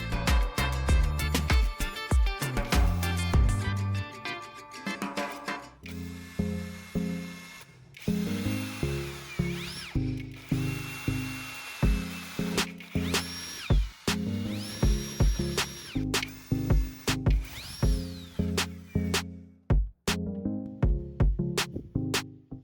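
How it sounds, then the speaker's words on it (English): A small drill bores holes in the bottoms of three 1.5V battery casings, giving repeated short whining bursts that rise and stop, separated by brief pauses and clicks, close up with no talking. "I use a drill to make a small hole at the bottom of all 3 battery casings"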